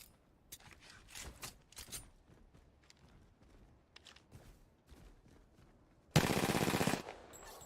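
Gunfire in the battle royale game Apex Legends: scattered distant pops and bursts through the first six seconds, then a loud, dense burst of automatic fire near the end; no one speaks.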